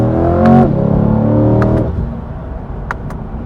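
Engine of a 2024 Chevrolet Corvette C8 Stingray with a 6.2 litre V8 revs up loudly, holds a harmonic roar, then drops off as the car settles into a lower rumble, with a few sharp clicks near the end.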